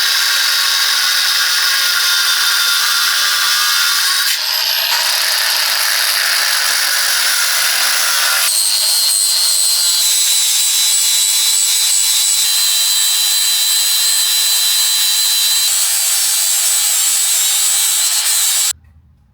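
A power tool cuts and trims a car part flush with the hub on a turbocharged Ford FG XR6. It makes a loud, close, continuous high-pitched grinding whine that shifts pitch a few times over nearly twenty seconds before stopping abruptly.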